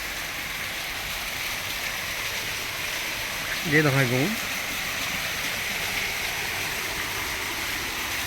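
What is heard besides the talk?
waterfall at a temple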